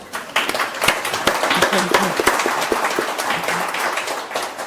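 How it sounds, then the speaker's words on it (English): An audience at a photography gallery talk claps together in a warm burst of applause that swells quickly and holds steady before starting to ease. "Round of applause for Paul."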